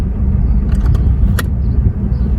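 A 1997 Jeep Grand Cherokee engine running steadily at idle as the transmission is shifted through reverse, neutral and drive, with a low continuous rumble and a few light clicks and clunks from the gear changes.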